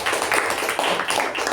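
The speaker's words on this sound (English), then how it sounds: "So please give a huge round of applause for the speaker and the evaluator" Audience at a Toastmasters club meeting applauds a speaker and evaluator, a dense continuous patter of many hands clapping nearby, steady and fairly loud throughout.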